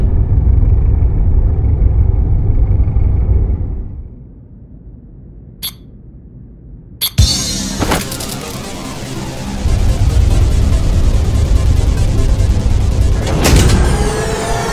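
In the video game Ghostrunner 2, a vehicle's ignition clicks and clunks, then a loud engine roars to life and keeps rumbling steadily, with a sharp mechanical surge near the end.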